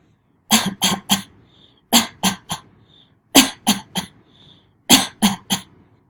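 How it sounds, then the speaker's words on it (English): Four bursts of harsh coughing, each a quick run of three or four hacking coughs, close and loud, with short pauses between fits. "How long have you had that cough?"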